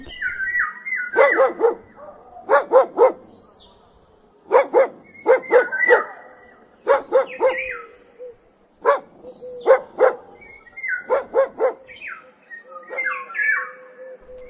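A farm dog barks in repeated bursts of two to four sharp woofs with short pauses between them, close and loud, while bird squawks and chirps carry on in the background.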